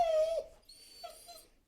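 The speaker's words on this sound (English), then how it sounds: "Let me let the dog out." A dog whimpers alone indoors, first with a sustained high whine, then softer broken whimpers and faint yips trailing off.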